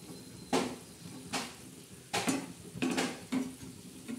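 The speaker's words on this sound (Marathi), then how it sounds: "हे बघा कशी उकळी येते" Bitter gourd slices frying in a pan over low gas, with a steady sizzle and several bursts of scraping and stirring against the pan at irregular intervals, close and clear.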